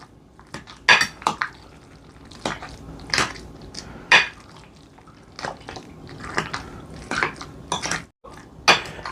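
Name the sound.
mixing porcini and burrata filling with spoon and fork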